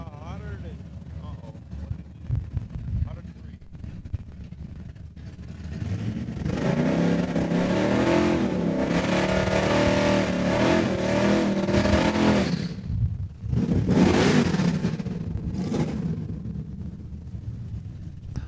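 A flat black B100 drag racing truck makes a quarter-mile run at Saskatchewan International Raceway, its engine rising into a loud sustained roar after a quiet start, fading, then surging again, with a track announcer talking over it.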